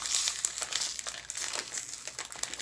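A Japanese snack wrapper from a Bokksu box crinkles close up in a steady run of crackles, with no voices.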